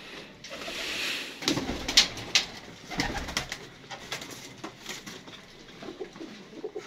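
Kamgar pigeons coo softly at close range, with a few wing flutters and light scuffs over a low background hum.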